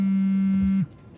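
A mobile phone rings with an incoming call in a scene from a Tamil thriller film: a steady, loud buzzing ring tone holds for under a second, then cuts off abruptly, leaving quiet room sound.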